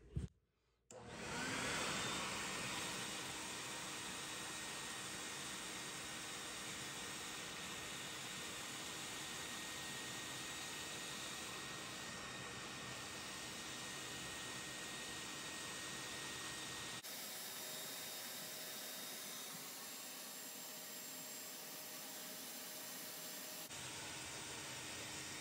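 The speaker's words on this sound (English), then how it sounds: "I have vacuumed half of the water out already," A vacuum cleaner sucks standing water out of an Electrolux dishwasher showing error code E3, a loud, steady whooshing roar that starts abruptly and runs continuously, close up and without talk.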